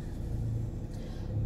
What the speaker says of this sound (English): So, I'm going to go ahead and pull out my driveway now.